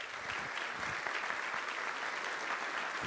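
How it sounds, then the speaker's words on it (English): Conference audience applauding to welcome a keynote speaker, a thick, continuous patter of many hands filling the hall at a steady level, with no voices over it. "Everybody, how about a round of applause?"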